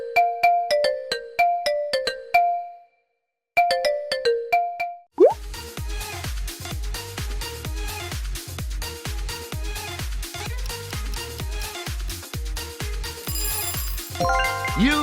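The Viber app ringtone: a bright plucky melody plays twice, then a busy electronic tune with steady thumping beats continues loudly to the end.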